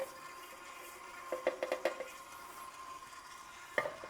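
A kitchen stand mixer runs with a steady, fairly quiet motor hum while kneading semla dough of milk, egg yolk, cardamom, baking powder and salt, with a few brief knocks and clicks from the bowl.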